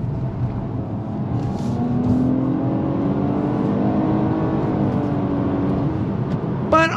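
A 2023 Nissan Maxima sedan's front-wheel-drive V6 engine revs under braking and downshifts, a loud sustained engine note with rising and falling pitch sweeps heard from inside the car.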